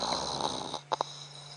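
A voice imitates the snoring of a male lion, giving a long rasping, rumbling breath followed by two short snorting bursts, close and fairly loud against quiet background.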